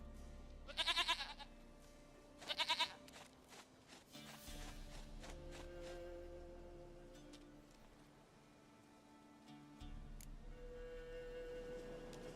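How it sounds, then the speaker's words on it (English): Two short, sharp bleats from a goat in Witcher 3 open the scene, followed by soft footsteps and a low steady game ambience, with no talking. "Dearest, sweetest goat."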